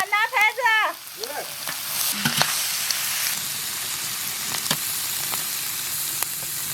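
Braised beef tripe stir-fries in a wok with a steady loud sizzle and scattered clinks of the spatula; a brief voice and a few squeaky tones sound at the start before the frying carries on alone.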